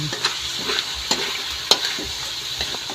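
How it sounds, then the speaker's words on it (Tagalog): Adobo being stirred in a frying pan with its seasonings, a steady sizzle broken by several sharp utensil scrapes and clicks against the pan, close and alone. "Saka haluin na din natin."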